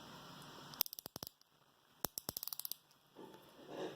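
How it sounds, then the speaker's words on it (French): The ratchet inside a Facom 464 J1PG ring wrench clicks in two quick close bursts of evenly spaced ticks, with a soft rustle of handling after them. "On a le cliquet qui est à l'intérieur"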